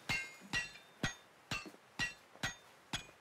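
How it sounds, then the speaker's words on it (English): Hammering from a cutscene in Assassin's Creed Mirage, set in Baghdad: seven evenly spaced metallic strikes about half a second apart, each ringing briefly, close and clear with no talk. "she's really hammering that thing"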